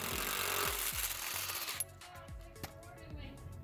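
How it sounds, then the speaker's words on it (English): An impact driver fitted with a Unibit hammers rapidly into a quarter-inch steel frame with a loud, close, rattling burst that cuts off abruptly. Quieter shop noise and a couple of clicks follow. "using a Unibit and his impact driver."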